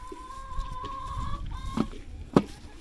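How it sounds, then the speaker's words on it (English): A rooster clucks quietly in a chicken run on a cold farm morning, giving soft scattered clucks and two sharper, louder calls near the end against low background noise. "oh, there's a rooster."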